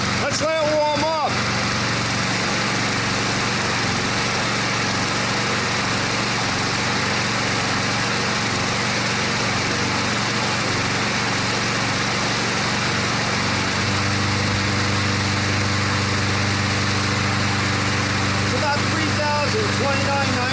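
Craftsman 22-inch self-propelled lawn mower engine idling steadily as it warms up after a single pull start, a constant close motor drone that shifts to a slightly different pitch partway through, with people talking over it.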